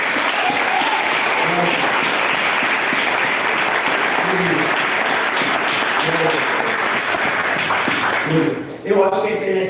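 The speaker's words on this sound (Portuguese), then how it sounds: "Gente, dá uma salva de palmas." A church congregation claps together in a loud, dense, continuous round of applause that carries on for several seconds, then breaks off near the end as a voice begins speaking.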